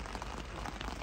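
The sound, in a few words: rain falling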